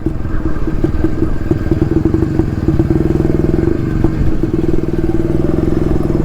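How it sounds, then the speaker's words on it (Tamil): A vintage Jawa 250cc motorcycle engine runs loud and close throughout, a steady rapid two-stroke thrumming with rattling clatter as it rides a round, with no talk over it. "அப்படியே ஒரு ரவுண்ட் அடித்து ஓரமாக நிறுத்திட வேண்டியதான்."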